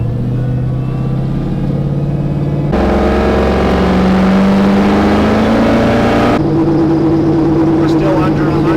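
Grandpa Sherm's tow truck engine hums and rises under light throttle, its pitch climbing steadily before dropping back, loud and close from inside the cab.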